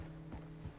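Horse hooves clip-clop in Red Dead Redemption II, a few soft thuds at a walking pace over a steady low game hum, no talk.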